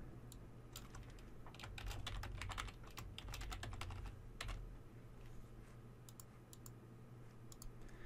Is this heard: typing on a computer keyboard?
yes